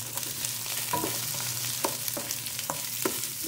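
Onions sizzle steadily in a hot pan of oil while a milkfish dish is cooked, a dense, continuous frying hiss broken by several sharp clicks and scrapes of a utensil stirring, close and without talk.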